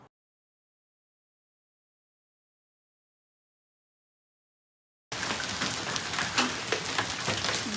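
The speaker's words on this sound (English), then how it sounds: "We are getting some hail." Hail falling in the early morning in July, heard after a long silence as a dense, steady patter of small impacts at moderate volume.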